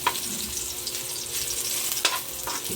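Garlic sautéing in a pan on the stove, a steady close frying sizzle with faint stirring scrapes and a couple of brief clinks of a utensil, no voices.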